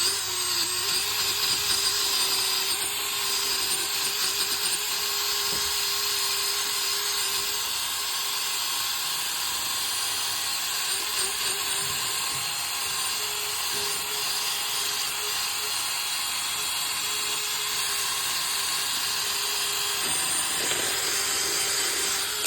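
Steady, continuous scraping and grinding on a 1972 Dodge Charger intake manifold as it is cleaned out, loud and close, with a constant high-pitched tool whine holding throughout.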